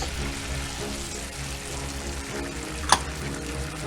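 Shrimp simmer in a pan with soy sauce and Jack Daniels honey glaze, giving a steady, moderate sizzle and bubbling, with one brief clink or splash near the end.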